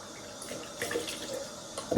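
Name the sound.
cold water running from a tap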